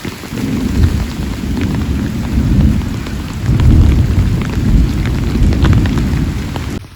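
A heavy rainstorm with thunder on the road to Salento, Colombia: a steady, loud roar of pouring rain with deep rumbles swelling beneath it, and no voices.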